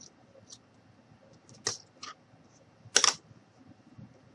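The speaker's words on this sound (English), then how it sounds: "I'm going to take my scissors and I'm just going to trim off a bit" Scissors trimming craft material for a magnetic gnome, a few quiet crisp snips and clicks spaced apart against near silence, the last cut slightly louder.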